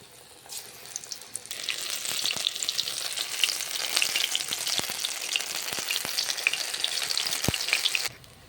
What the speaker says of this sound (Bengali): আমি ছাড়ব পকোড়ি যেরকম ভাজা হয় সেরকম ভেজে নেব